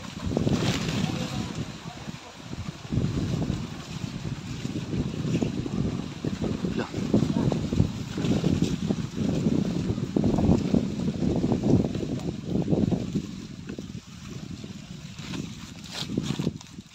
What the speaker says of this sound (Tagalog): Ang lakas ng hangin dito.